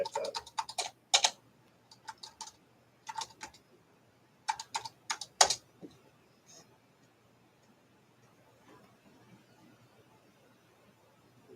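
Someone types on the keyboard of a Zenith 286 SuperSport laptop computer. Short bursts of crisp, close keystrokes come in clusters over the first several seconds, then the keys go quiet.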